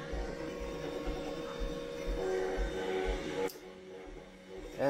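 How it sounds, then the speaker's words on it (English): A 3D printer with a BIGTREETECH SKR 1.3 32-bit controller running Marlin 2 prints generic PLA at 75 mm/s, giving steady stepper-motor whirring and rhythmic low pulses that fade after a few seconds, with no talk. "We are printing at 75 millimeter a second."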